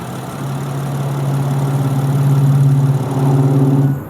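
A 2005 Saturn Vue Redline with its Honda 3.5-liter V6 and all-wheel drive runs close by, a steady, humming idle that swells slightly as if lightly revved before easing off at the end.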